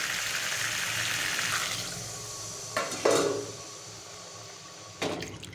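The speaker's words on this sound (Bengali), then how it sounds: "তারপরে এর মধ্যে জল ঢেলে দেব" Water splashes into a pan of drumsticks and potatoes cooking in spices, a gushing pour after steady sizzling and stirring, followed by a couple of utensil knocks, close by.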